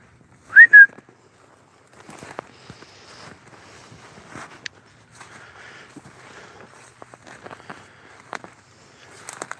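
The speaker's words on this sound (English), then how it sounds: "I just heard a whistle." A single short, bright whistle rises and dips near the start, followed by faint shuffling and small clicks in an otherwise quiet snowy outdoor space.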